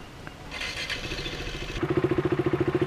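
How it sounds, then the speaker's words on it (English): A motorcycle engine cranks briefly, then catches and settles into a steady, throbbing idle close by. "The motorcycle stops and you can just pull in the clutch, we're in first gear, and start it right back up."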